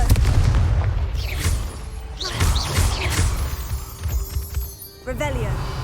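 A Confringo blasting spell goes off in Hogwarts Legacy amid a busy game soundscape, with loud crashing bursts and shattering impacts repeating across the stretch and voices heard at times.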